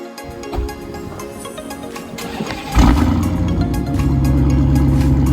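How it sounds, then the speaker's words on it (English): A rebuilt 2016 Dodge Challenger SRT Hellcat cranks and fires up, its engine catching with a loud burst before settling into a deep, heavy, rumbling idle that stays strong and close. "we get to hear that car start up, and it's gonna sound amazing"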